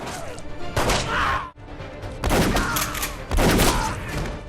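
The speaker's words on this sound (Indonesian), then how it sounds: "Terjadilah baku tembak antara Rock, John, dan Tom." Gunfire in a gunfight scene from an action film about a former FBI agent against the Yakuza, with loud bursts and heavy impacts in several surging waves over a rumbling score.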